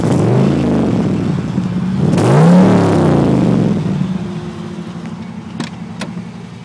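A Datsun 280Z engine revs up on its first drive, the pitch climbing and peaking near the middle, then settling to a steady rumble, loud and close with no talk.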